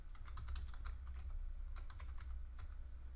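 Rapid typing on a computer keyboard, a close, quiet run of clicking keystrokes in uneven bursts with brief pauses over a low background hum.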